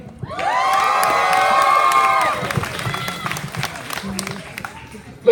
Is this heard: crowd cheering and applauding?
yes